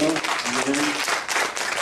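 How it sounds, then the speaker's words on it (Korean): Church congregation clapping during a worship service, a short burst of crowd applause mixed with voices and sung or spoken tones. "우리 하나님께 영광의 박수 올리시고요"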